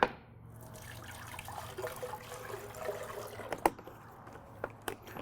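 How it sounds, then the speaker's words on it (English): Water pours into a blender for a detox smoothie with a faint trickling splash and a few small clinks, quiet and without speech. "I'm going to start by adding a little bit of water to this."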